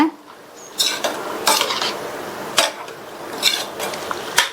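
Jaggery syrup mixture being stirred in a pan over a low flame for sweet kozhukattai, close metallic scrapes and clinks of a ladle against the pan at an uneven rhythm, quiet between strokes and free of speech.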